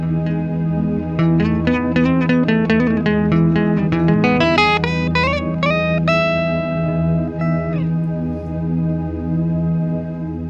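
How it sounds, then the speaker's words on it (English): A melodic guitar line rings out with heavy reverb from a Walrus Audio Slöer pedal, notes swelling into a sustained wash that the pedal's latch keeps droning steadily after the playing stops. "if you play it and you press the sustain button on there, it'll hold the reverb that you have"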